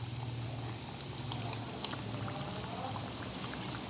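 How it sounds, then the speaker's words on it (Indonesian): Pastel pastries filled with potato, carrot and egg sizzle and bubble steadily in hot oil over a low flame, a dense continuous crackle heard close up with no voices. "ini kita goreng sampai berwarna kuning keemasan ya"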